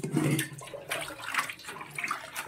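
Soaked cloth rags, steeped in hot water, being washed in a kitchen basin: splashing and sloshing water with wet scrubbing in irregular bursts, close and moderately loud, with no voices.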